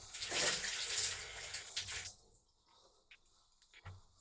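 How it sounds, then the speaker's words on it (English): Cold water gushes from a bath tap into a bathtub for about two seconds, then cuts off, leaving only faint drips and quiet room noise. "Cold water from the bath."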